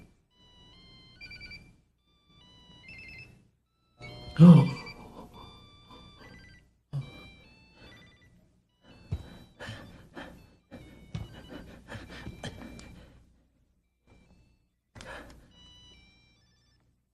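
A cellphone rings with a repeating melodic ringtone of short electronic notes in spaced bursts, broken by a few louder knocks and rustles, and no talking.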